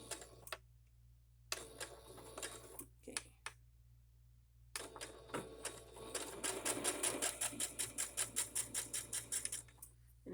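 Bursts of sewing machine stitching on fabric scraps: short start-stop runs and pauses, then a longer, louder stretch of rapid rhythmic back stitching close by.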